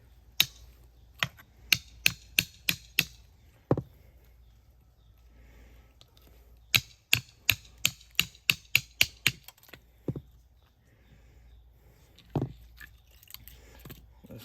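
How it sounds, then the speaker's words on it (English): A knife slices thin pieces of greenbrier root on a board: sharp, crisp cuts arrive in quick rhythmic runs of about six to nine strokes, separated by quiet pauses, close and clear. "See how I'm cutting thin slices"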